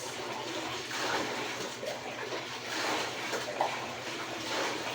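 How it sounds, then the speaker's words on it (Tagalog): Strong, steady rush of running water, a continuous hissing gush as from a tap or hose, moderately loud and uninterrupted. "At wala namang problema dito yung tubig ni Jing kasi malakas yung agas."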